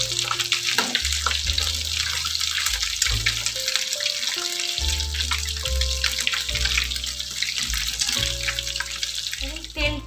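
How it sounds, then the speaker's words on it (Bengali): Whole prawns frying in hot oil for prawn Manchurian give a steady, bright sizzle beneath continuous music that dominates the sound. "প্রনটাকেই ভেজে তুলব।"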